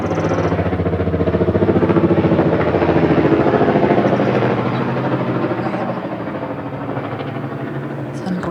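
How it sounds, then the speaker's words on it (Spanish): A helicopter passes overhead as a steady, loud rotor and engine drone that swells and then slowly eases away, running under a conversation. "Estamos escuchando, creo que un helicóptero,"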